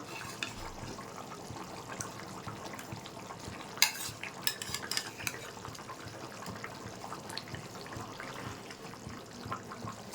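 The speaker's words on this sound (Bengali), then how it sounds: "ঝোলটা ফুটে গেছে এবার মাছটা দিয়ে দিচ্ছি" Chara pona fish slides into boiling curry gravy with potatoes. Bubbling and a sizzling simmer carry on under faint stirring, with a few sharper splashes and clinks in the middle.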